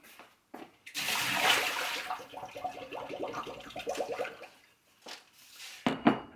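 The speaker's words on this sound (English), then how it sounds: "I'll start by dumping the water out." Water poured and splashed out of a mixing bowl in a home kitchen while preparing popover batter, a sustained sloshing pour for several seconds followed by a few brief drips and clinks, fairly close.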